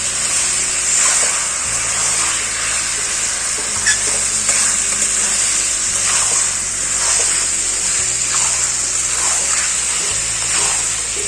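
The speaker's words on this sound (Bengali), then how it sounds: "এই মাটনটা আমি এখন কষাতেই থাকবো।" Mutton is stir-fried for kosha in a pan, giving a continuous wet sizzle with repeated scraping stirs at a steady rhythm, close and fairly loud, with no talking.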